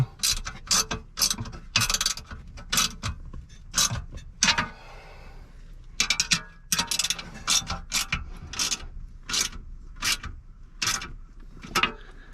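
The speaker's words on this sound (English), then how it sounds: "Tighten down our acorn nuts." A ratchet tightens acorn nuts while a truck safe is installed in a 2015 Ford F-250 Super Duty, heard as close, repeated bursts of clicking strokes in an uneven rhythm, with no talking.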